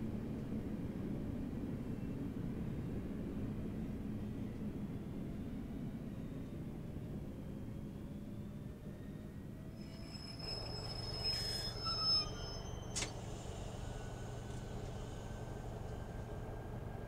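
A Class 323 or Class 153 train running on the Birmingham Cross City line in Train Simulator, a faint, continuous low rumble of wheels on track with thin squeals and a few clanks partway through.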